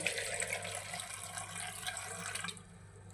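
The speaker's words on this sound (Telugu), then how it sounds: "కొన్ని వాటర్ పోసుకోవాలి" Water pours steadily into a cooking pot for tomato rasam for a couple of seconds, a bright splashing stream that stops abruptly, ending with a short knock.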